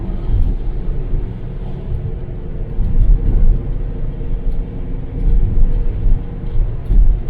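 A classic Ford Granada cruises on the road after being shifted into drive. A continuous low engine and road rumble swells and eases a few times, with no voices.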